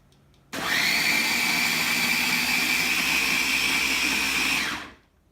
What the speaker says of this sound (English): Then blend this mixture until smooth.